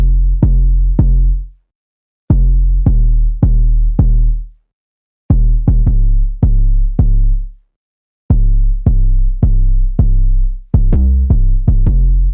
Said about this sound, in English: I added an 808. This 808 was just following the bass notes of the keys.